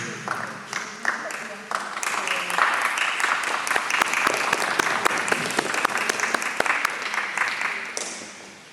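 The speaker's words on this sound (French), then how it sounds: "Vous applaudissez pour une boîte de chocolat?" Audience applause at a poetry event in a museum, building from scattered claps into a steady round of clapping that fades at the end, with a few voices mixed in.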